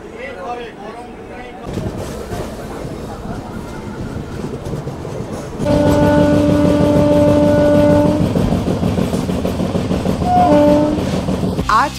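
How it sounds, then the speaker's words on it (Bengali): A South Eastern Railway passenger train departs Howrah for Digha, its wheels and carriages rumbling steadily, then growing louder as a long horn blast sounds midway and a shorter one follows near the end, with voices audible in the background. "প্রায় 1 ঘন্টা লেটে এই ট্রেন দীঘার উদ্দেশ্যে রওনা হলো হাওড়া থেকে"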